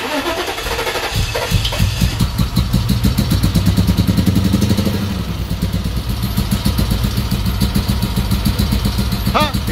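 A BMW E60 with a faulty fuel pump and leaking fuel line cranks with a rapid chugging rhythm, catches and settles into a loud, steady, pulsing idle up close.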